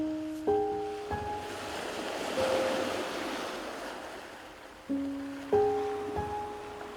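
Waves wash onto a Scandinavian beach in a soft, steady surge with wind noise, while sustained musical tones swell in at the start and again near the end; no speech.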